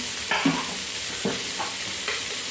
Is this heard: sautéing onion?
yes